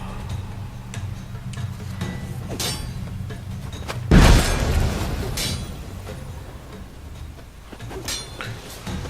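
A bomb thrown in The Witcher 3 video game blows up in a single deep, loud blast about midway, with its boom trailing off over a couple of seconds against quiet game ambience and faint ticking.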